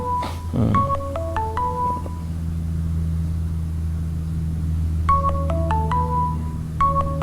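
A mobile phone ringtone plays two bursts of a stepped electronic melody in a lecture hall, clear and fairly close over a steady low hum, with a quiet gap between the bursts.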